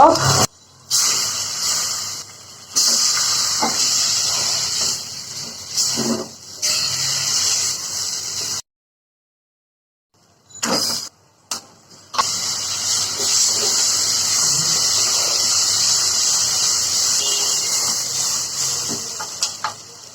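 Vegetables hiss and steam in hot tempering oil with green chilies, coriander, onion and garlic, a loud broadband hiss cut by abrupt gaps and one long silence, then a steady sizzle resuming.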